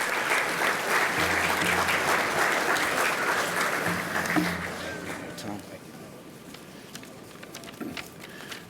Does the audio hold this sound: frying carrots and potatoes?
no